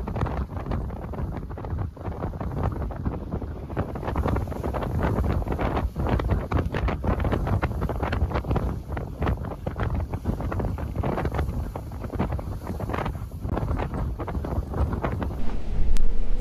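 Strong wind buffets a racing sailboat at sea during the Route du Rhum, crossing a front with a squall; a steady, loud roar of gusts and rushing water fills the whole stretch, with no voices.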